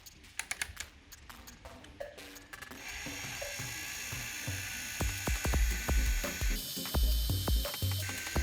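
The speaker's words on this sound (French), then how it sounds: "un malaxeur, une perceuse, et voilà, on met dedans d'abord et on y va doucement" A power drill fitted with a paddle mixer stirs a can of full dip paint for car bodywork, starting with short bursts and clicks, then running as a steady close whine with bumps and knocks of the paddle against the can.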